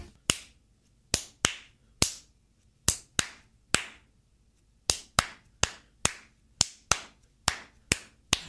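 A bird's pecking, picked up near a drum, is rendered as a sequence of sharp, dry claps, about fifteen distinct hits in an uneven rhythm, each cutting through a quiet background.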